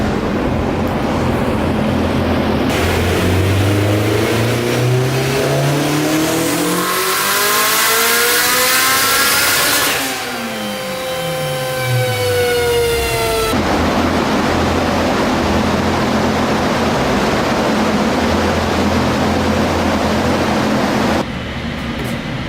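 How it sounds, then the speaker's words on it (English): A turbocharged car running on racing fuel on a dyno, with boost-by-gear control, revs hard in loud rising and falling sweeps, climbing in pitch through gears, then settles back to a steady idle-like roar with a brief fan or air rush. "We got the car on the dyno."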